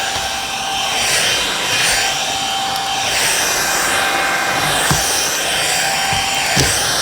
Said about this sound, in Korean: 먼지가 쑥쑥 빨려 나옵니다.